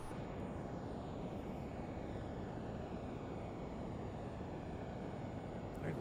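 A Learjet 35 in a flight simulator game gives off a steady, unbroken jet engine roar with a faint high whine, filling the cabin evenly throughout.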